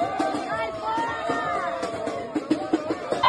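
A crowd at a street protest boos and jeers, a sustained mass of voices with overlapping shouts and some louder outbursts near the end.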